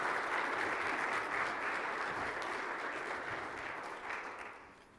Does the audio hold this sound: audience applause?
yes